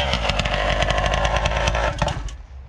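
Loud, revving two-stroke engine of a modified Yamaha XTZ 180 motorcycle fitted with a Honda Titan motor, buzzing hard and steady close by before easing off near the end.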